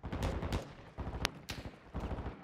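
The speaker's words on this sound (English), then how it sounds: "Gunfire over there already." Rapid bursts of video game gunfire crackle in quick succession, loud and close, with a couple of sharper shots standing out from the rattling volleys.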